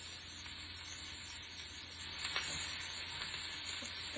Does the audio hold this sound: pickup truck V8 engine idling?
no